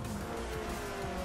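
An armed fast car's engine hums steadily in the video game Just Cause 2, a dense continuous drone with a faint tonal whine, heard alone and loud throughout.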